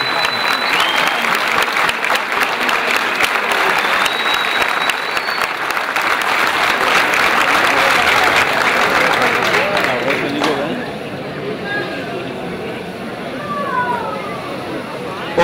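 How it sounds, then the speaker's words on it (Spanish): Crowd applause at an Argentine barbecue championship, loud sustained clapping from a large audience that thins out after about ten seconds, with a few whistles and background chatter mixed in. "Un aplauso muy, pero muy, pero muy especial para las chicas del concurso"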